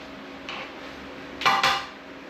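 Metal utensil scraping and knocking through pork belly chilli noodles in a pan, a faint stroke followed by two louder, close clattering strokes over a low background hum, no voices.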